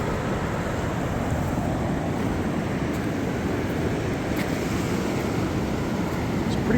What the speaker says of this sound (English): Pretty good sized waves here too.